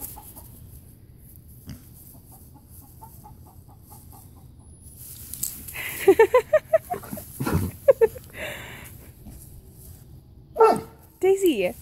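After a quiet stretch, a dog lets out a quick series of sharp barks and yips, close by, with people talking and laughing around it.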